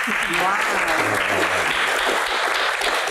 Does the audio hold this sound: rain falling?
no